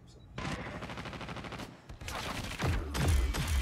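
Turret gunfire in Call of Duty Mobile, sustained rapid automatic bursts that pause briefly and then resume with heavier booming impacts, loud and close.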